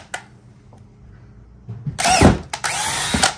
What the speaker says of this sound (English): you already drilled over the table